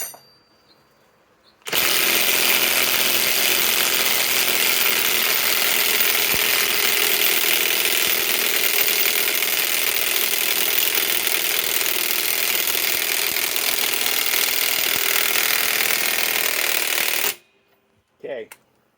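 A Skil Power Core 20 cordless mid-torque impact wrench hammers on car lug nuts in one long, loud, unbroken burst of rapid ratcheting impacts lasting about fifteen seconds, starting and stopping abruptly, with a brief mechanical clunk afterward.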